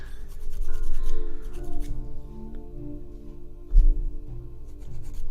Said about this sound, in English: I'm just filing up here.